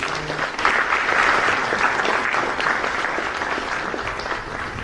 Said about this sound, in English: Can we get a round of applause for everyone?